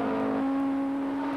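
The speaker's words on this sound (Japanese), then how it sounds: "快調なホンダエンジンをポール・リカールのステージに歌わせる" A 1986 Honda Formula 1 race car engine at the Paul Ricard circuit holds a steady, high-pitched whine, sustained and fairly loud throughout.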